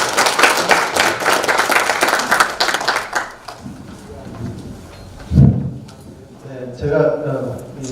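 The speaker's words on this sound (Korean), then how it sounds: "큰 박수 부탁드립니다" Audience applause at an anniversary lecture event of a green energy research institute, loud dense clapping for about three seconds that fades out, followed by someone speaking.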